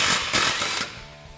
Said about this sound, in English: The first thing that we're going to do is remove these two bolts located here as well as here.